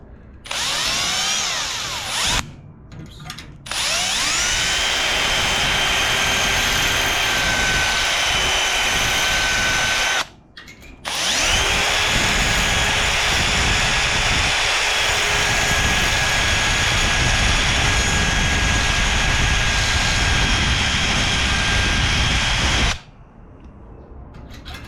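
A power drill boring through solid metal on the rear end of a 1969 Dodge Charger during a build, loud and close, running in long sustained whining stretches broken by a few short stops.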